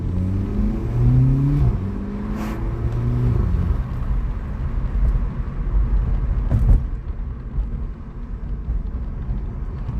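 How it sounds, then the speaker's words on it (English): Inside a Volkswagen Polo 6C GTI on the move, a steady engine drone and road rumble fill the cabin. A rising engine tone is clear early, then it settles into a constant low roar with no voices heard. "The turbo noise is quite nice."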